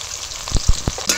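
Chopped tomato, onion, ginger and green chilli paste frying in a pan for cabbage chop filling, a soft sizzle with a few quick spoon strokes against the pan, close up.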